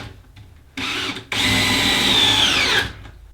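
Power drill driving screws through a wall's top plate and into a 2x6 header during a bedroom framing job, in two loud whirring bursts with a rising motor whine as each screw seats, then stopping.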